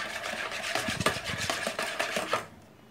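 Egg and vanilla stirred together in a bowl by hand, a steady run of quick scraping, clinking strokes against the bowl, close and clear, ending abruptly in quiet.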